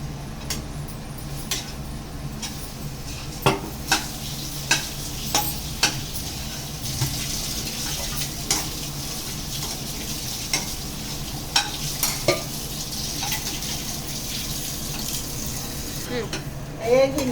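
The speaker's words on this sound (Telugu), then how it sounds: "వేగింది రవ్వ." Semolina for rava laddu fries in ghee as a spoon stirs and scrapes the pan, with a soft continuous sizzle and periodic sharp scraping knocks, and some quiet talk in the background.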